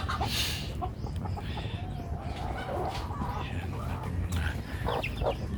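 An RLC hen and other chickens cluck softly in a muddy coop after overnight rain, short scattered calls over a steady outdoor background, with a person talking in between.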